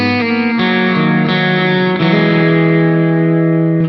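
Distorted electric guitar played through an HX Stomp preset with an amp cab block, sustained chords shifting every second or so, loud and alone.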